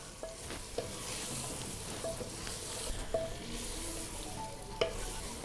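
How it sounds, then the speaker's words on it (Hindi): Potatoes frying with minced meat keema in a pan for aloo qeema salan, an even sizzle broken by occasional clicks and scrapes of a spoon stirring, close and fairly quiet. "आलू डालने के बाद हम इसको 2 मिनट तक कीमे के साथ भून लेंगे ताकि मसाले आलू में भी जज़्ब हो जाएं"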